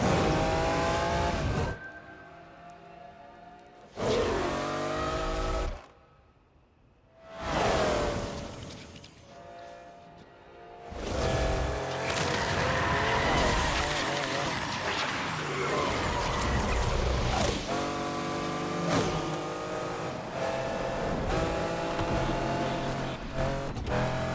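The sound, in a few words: car accelerating and skidding in Need for Speed Unbound video game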